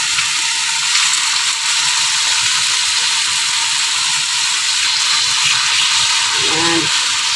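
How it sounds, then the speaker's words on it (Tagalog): Chicken pieces browning in a hot pan with sage leaves, a loud, steady sizzle with constant hiss throughout and a brief scrape partway through. "Ilalagay na natin yung chicken. Ayan. Iba-brown lang natin."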